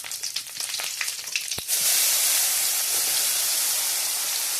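Urad dal, mustard seeds and curry leaves crackle in hot oil in a large kadai, then a loud, steady sizzle takes over as chutney is added and sautéed, close up.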